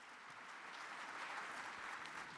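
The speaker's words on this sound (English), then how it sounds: "A round of applause for the debaters." Conference audience applauding debaters after a trauma video review debate, a steady wash of clapping heard faintly and at a distance for the whole stretch, without any talk.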